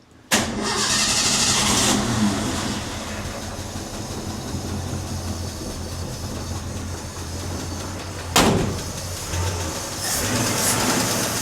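An old car's engine, idle for almost 15 years, cranks briefly and catches, then settles into a loud, steady, rough running roar. A second sharp burst of revving comes partway through.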